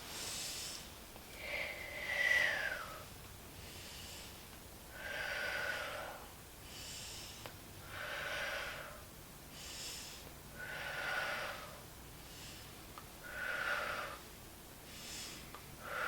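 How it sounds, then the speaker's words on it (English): A child patient takes a series of big, deep breaths during a nursing assessment, about six slow, steady in-and-out cycles, close and fairly soft, with no talking. "I'd like you to take big deep breaths in and out"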